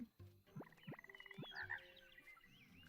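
Frogs croaking in the video game The Plucky Squire, a few rising cartoonish croaks in quick succession followed by a warbling chorus and chirpy game effects, no talking.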